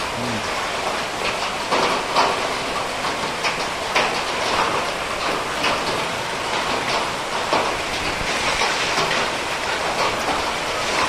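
Heavy rain with strong wind lashing a road, a steady dense roar of falling water with gusty swells and no voices, continuous and fairly loud for the whole stretch.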